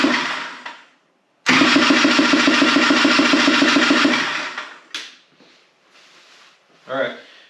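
A Honda Odyssey FL350 with a blown engine is cranked over by its starter during a compression test, giving a loud, close, rapid rhythmic churning for about three seconds without firing, then faint clatter and a short whir.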